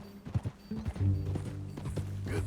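In the Red Dead Redemption 2 video game, a horse's hooves clip-clop in a steady rhythm, close and clear, over a faint sustained tonal background.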